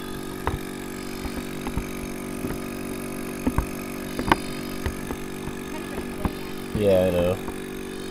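A goat milking machine pump runs steadily close by with a constant low mechanical hum and faint pulsing, scattered clicks and knocks over it, while a person speaks briefly.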